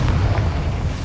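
A Confringo spell explosion in Hogwarts Legacy lands as a short, heavy, low boom that fills the whole second without a sharp decay.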